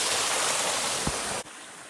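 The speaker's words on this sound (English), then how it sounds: "we end up finding this nice waterfall" Steady broadband roar of a waterfall in the Grand Canyon, loud and continuous, with a brief low thump partway through before the rushing water drops in level.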